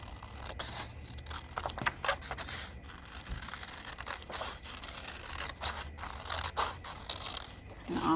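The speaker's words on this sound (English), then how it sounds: "And now carefully with my scissors, I'm going to cut that piece out." Scissors snip through paper in a string of short, crisp cuts with small pauses, close by and fairly quiet, with no talking.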